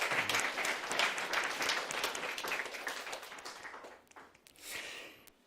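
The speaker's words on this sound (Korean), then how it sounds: "우리 박수 한번." A church congregation gives a round of applause during a Friday service, dense clapping that fills most of the clip before thinning out near the end, then swelling briefly again.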